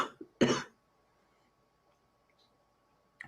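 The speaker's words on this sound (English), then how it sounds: "It's got me coughing a little bit." Coughing attributed to elevated tree pollen: one or two quick coughs and a throat clear at the start, then near silence, and another short cough burst at the very end, close to the microphone.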